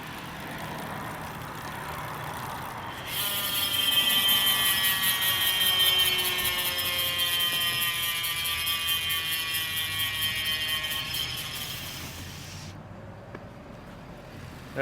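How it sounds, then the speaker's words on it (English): Freehub ratchet of a Cannondale Hologram 50mm deep-dish wheel spinning, a dense fast buzzing click lasting about ten seconds and slowly easing, with a truck engine idling faintly in the background. "That is a very nice sounding hub on there."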